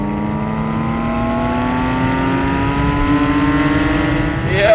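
Porsche 911 with a 3.8 litre Metzger flat-six making 430 horsepower revs loudly and steadily, its pitch climbing as the engine pulls, with a brief flare at the end.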